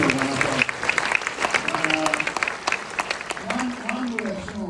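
An audience claps steadily and warmly, with voices murmuring and calling out through the applause.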